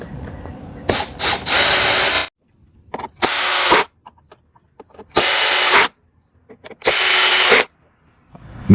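Power drill driving screws into a Power Wheels Jurassic World ride-on toy during assembly, in four loud whirring bursts separated by quiet pauses and small clicks.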